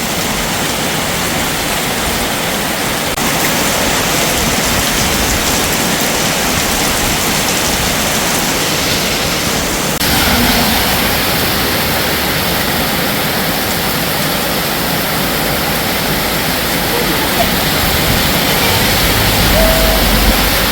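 Rain falls hard and steady, a loud, broad, unbroken rushing hiss lasting throughout with slight shifts in intensity and no voices.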